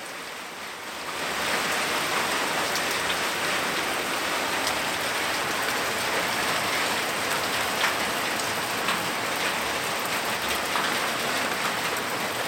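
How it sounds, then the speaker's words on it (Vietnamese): Heavy rain in the mountains of northwest Vietnam, beginning after a brief quiet moment and then pouring as a loud, dense, unbroken roar onto a house roofed with black stone. "Tây Bắc bây giờ trời mưa to lắm."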